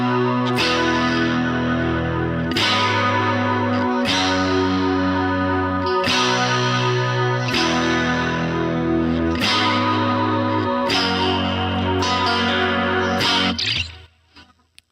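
A distorted, chorus-laden electric guitar strums chorus chords, loud and sustained in repeated phrases before cutting off abruptly at the end.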